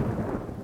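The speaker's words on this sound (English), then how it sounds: "Wait, I think I just spawned lightning." Low rumbling thunder from lightning in the god-simulator game WorldBox, a short, fairly loud, dark roll heard on its own.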